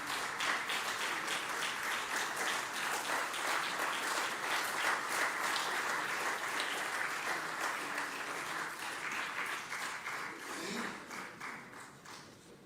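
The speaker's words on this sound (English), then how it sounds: "we may have a huge round of applause" An audience applauds at a letter of intent handover during an international university education event: dense, sustained clapping from a crowd for about twelve seconds, tapering slightly at the end.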